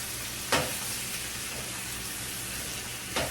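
Shrimp fry and get stirred in a small pan on a home stove, a constant loud sizzle with two sharp scrape-like accents from the spoon, close by and with no talking.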